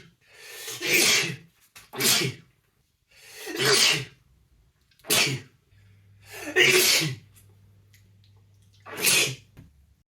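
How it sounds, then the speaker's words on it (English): Six forceful human sneezes in a row, each a loud burst separated by short pauses, close and clear with no other sound between them. "He paused for a ferocious round of sneezing."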